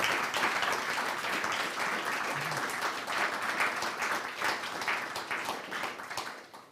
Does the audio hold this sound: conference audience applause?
yes